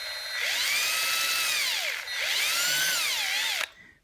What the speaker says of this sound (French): Je l'ai mis sur une visseuse pour bien pouvoir percer